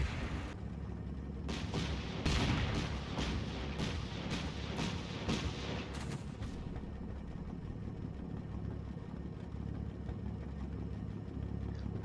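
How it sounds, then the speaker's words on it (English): Flak gun fire against armour in the Combat Mission: Kampfgruppe Peiper war game, a run of sharp, evenly spaced booming shots in the first half, then a steady loud rumble of engines and battle noise. "A flak gun opens up on the armour at Overwatch 1 and I still can't get any eyes on it."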